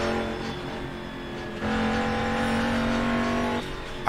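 Mercedes-Benz CLR-LM race car in the Assetto Corsa racing game, its engine droning loud and steady with a clear step up in pitch mid-run, then easing back near the end, alone with no talk.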